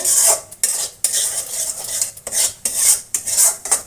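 Grated carrots for carrot halwa being stirred in a pan with a utensil, scraping and clinking in steady repeated strokes with a faint sizzle underneath, close and fairly loud with no voices.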